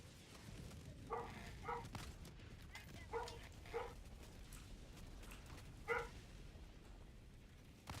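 Dog in the Helldivers 2 video game barking in several short, faint bursts scattered across a noisy, rumbling background of game sound, with no talk over it.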